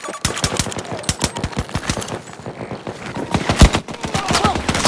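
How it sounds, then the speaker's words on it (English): Heavy automatic gunfire in the video game Battlefield 2042, rapid bursts of machine-gun shots rattling in quick succession, loud and close, with a short lull midway before the firing resumes. "Heavy fire incoming!"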